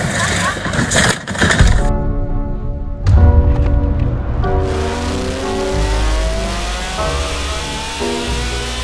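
Race car engine sound, the kind a racing game ought to have, revving and accelerating with rising harmonic sweeps and thuds, loud and close, with speech-like voices mixed in.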